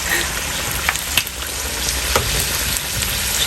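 Cheeseburger egg rolls fry in hot oil with a steady, loud, close sizzle and crackle, with occasional sharper pops, no talking.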